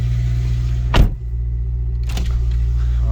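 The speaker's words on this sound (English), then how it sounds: "I'll put this glass down" A car's power window motor whirs briefly as the glass slides down, heard over a steady low engine idle, with a second faint mechanical rustle about a second later.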